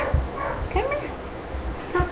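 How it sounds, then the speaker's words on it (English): Small, high-pitched yips and barks from a puppy, a few short bursts close by, mixed with someone talking. "if you hear that bark, that's my little puppy"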